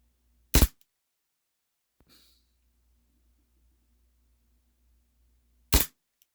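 Cybergun Desert Eagle green gas airsoft pistol firing two sharp, close cracks several seconds apart in a quiet room, a soft rustle between them.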